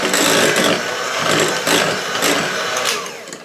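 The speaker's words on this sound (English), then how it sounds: "we're gonna take the hand mixer and we're just gonna mix this up just a little bit, just to get it a little bit more whipped" An electric hand mixer whipping strawberry fruit dip in a bowl, a loud, steady, close motor whir with slight changes in pitch as the beaters move, with no talking.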